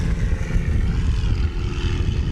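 A Legend Cub light airplane takes off in a short-takeoff competition at Jennings, Louisiana, its propeller engine droning loud and rough at full power throughout, with no voices.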